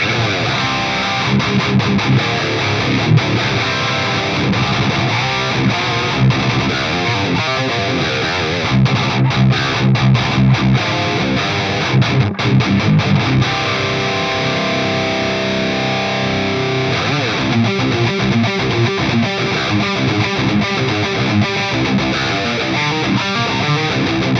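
Heavily distorted electric guitar through a grinder boost pedal into an EVH 5150 III amp on the blue channel, thick and loud with a pummelling low end, riffing continuously with no voices.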